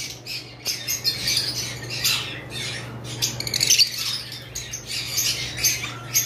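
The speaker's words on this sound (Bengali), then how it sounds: "এইগুলাও লুটিনো ফিশার রেড আই, কিন্তু এগুলো অফলাইন ব্লাড লাইনের পাখি।" Lutino red-eyed Fischer's lovebirds of an offline bloodline squawk continuously in a flock, with shrill overlapping calls filling the whole stretch over a steady low mechanical hum.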